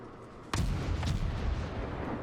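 A World of Warships warship's guns fire in a single sharp, loud boom, followed by a rolling rumble and a fainter second report, with no talking.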